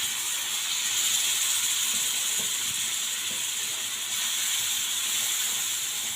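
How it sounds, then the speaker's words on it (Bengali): Boal fish frying in hot oil in a frying pan, giving a steady, continuous sizzle and hiss at close range that holds evenly throughout, with no talking. "আপনার এই মাছগুলো যে ভাজা হচ্ছে"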